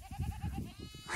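A sheep bleats close by, one wavering, quavering call lasting about a second, moderately loud against a low background murmur.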